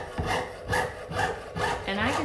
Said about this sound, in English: And I can do this sewing with 3 fingers.